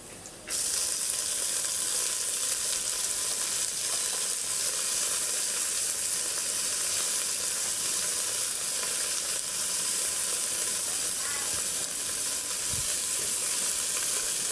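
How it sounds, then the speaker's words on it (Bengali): Red amaranth leaves (lal shak) fry in a hot pan with a loud, steady sizzle that starts abruptly and holds throughout, with faint stirring near the end. "এবারে দিয়ে দেব লাল শাক"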